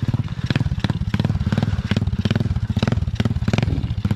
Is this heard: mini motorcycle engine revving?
yes